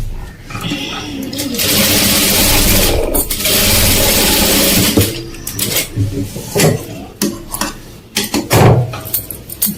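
A sewing machine stitches a blouse, running in a steady whir for a few seconds, then stopping and starting in shorter bursts among light clinks of tools, while a person talks over it.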